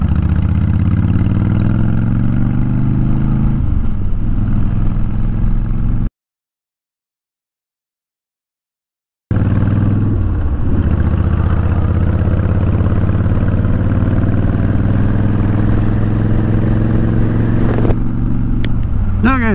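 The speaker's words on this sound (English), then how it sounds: "This Sportster sounds good." Harley-Davidson Sportster motorcycle engine idling close by with a deep, steady, loping rumble, broken by a few seconds of silence before the idle returns, with someone talking over it.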